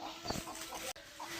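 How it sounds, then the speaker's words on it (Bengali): Chickens cluck and squawk near a Bangladeshi village home after chicks have been let out, with one sharp louder call among steady fowl noise and a brief dropout. "মুরগি অনেক চিল্লাচিল্লি করতেছিল।"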